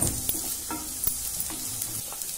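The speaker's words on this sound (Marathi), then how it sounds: "लसूण आपला बारीक किसलेला व आलं आता याला आपण थोडं चांगलं परतून घेऊया" Finely grated garlic and ginger sauté in a pan with a continuous gentle sizzle, punctuated by quick, repeated taps and scrapes of a spatula, heard up close without speech.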